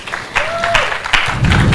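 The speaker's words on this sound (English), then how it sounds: "Another clap for them, please." Brief applause for a panel at a professional development session, a small group clapping for under two seconds while a voice speaks briefly over it.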